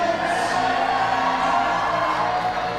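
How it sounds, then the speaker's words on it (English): A crowd at a bouldering World Cup final in Toronto cheers and whoops for a climber, producing a dense, sustained roar of voices from a packed venue that continues without a break. "listen to them now, they're really giving it, cheering on James Casey here"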